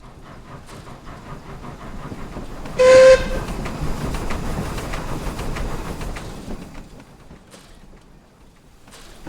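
A Caledonian Railway 492 class steam locomotive runs in Train Simulator, its rumbling motion and clanking joined early on by a short, loud whistle blast, then a steady chuffing roll that fades toward the end.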